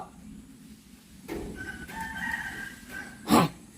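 A rooster crows at a moderate distance in a drawn-out call, followed by a sharper, louder squawk near the end, over faint household background noise.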